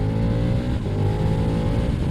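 A KTM Super Duke 1290 motorcycle with a stage 1 exhaust revs loudly and up close, a steady, throaty engine roar that holds for about two seconds with no speech over it.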